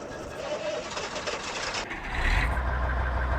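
A tractor engine in Farming Simulator 19 turns over and starts, a diesel rumble swelling louder at the end over a steady mechanical hum.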